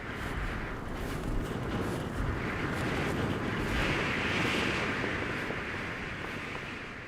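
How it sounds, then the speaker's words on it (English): Steady roaring wind buffets the microphone on a high mountain, a dense continuous rush that swells and eases slightly without pauses. "Gusts of wind buffet their bodies."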